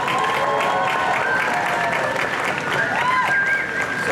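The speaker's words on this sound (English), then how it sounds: "Big round of applause for everybody." Audience applause at a press event opening a Walking Dead attraction at Universal Studios Hollywood, steady and fairly loud for the whole stretch, with faint whistles or cheers rising above the clapping.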